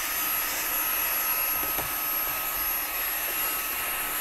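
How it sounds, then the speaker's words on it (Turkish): A Mi Vacuum Mini handheld cleaner runs continuously while cleaning the console of a Porsche, a loud, steady high-pitched whirring whine held close for the whole stretch. "2 milyon liralık bir aracın şu anda konsolunu Mi Vacuum süpürgeyle"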